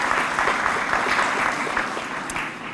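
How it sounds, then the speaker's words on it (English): An audience applauds at a police award ceremony, a dense, sustained clatter of many clapping hands that tapers slightly toward the end. "let's give him a round of applause"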